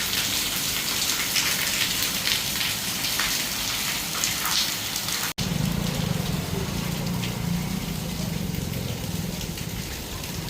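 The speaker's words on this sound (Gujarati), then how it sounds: "વરસાદ ચાલુ જ છે સવારે પાંચ વાગ્યાનો આટલો ને આટલો ચાલુ જ છે" Steady heavy rain falls continuously, a dense, even hiss of drops on surfaces that runs unbroken throughout apart from one very brief dropout in the middle.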